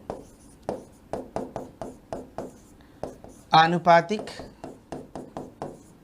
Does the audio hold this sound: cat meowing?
no